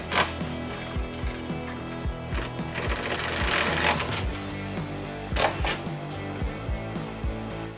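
A ratchet backs out 12mm bolts from the running board of a 2019–2021 Lexus LX570, giving a steady, rapid train of close mechanical clicks with brief pauses between strokes. No speech.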